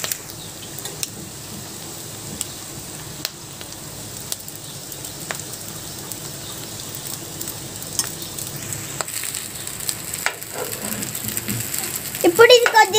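Cooked rice tossed and stirred into fried chicken in a pan for chicken fried rice, a steady background sizzle under regular ladle scrapes and clicks that grow busier and louder at the end.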